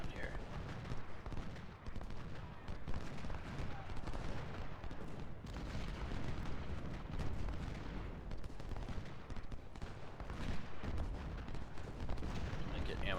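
Six-pounder cannon and artillery fire from a Civil War battle video game, a dense, continuous din of booms and crackling gunfire with no clear gaps, steady and loud across the whole stretch.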